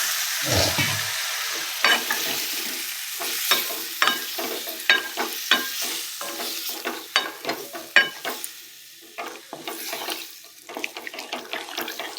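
Cauliflower frying in a pan just after a little water is added, a steady sizzle with scattered scraping stir strokes and clinks from a utensil, close and moderately loud, with no talking.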